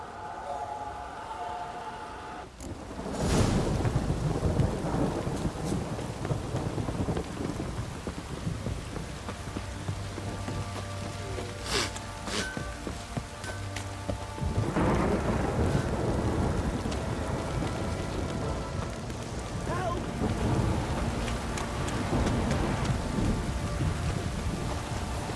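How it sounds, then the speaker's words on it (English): Heavy thunderstorm downpour in The Witcher 3, steady dense rain hiss throughout with rolling thunder rumbles swelling and fading, and a voice speaking briefly over the storm. "This downpour's a bastard"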